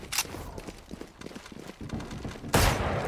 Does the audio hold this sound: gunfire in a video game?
yes